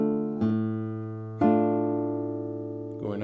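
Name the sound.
classical guitar playing measure 6 of Sagreras lesson 59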